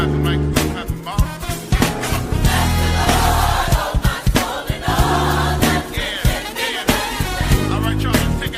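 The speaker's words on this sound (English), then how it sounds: "Everybody clap your hands." A church congregation claps along during a tribute service, a steady rhythmic stream of hand claps blended with loud music and crowd noise throughout.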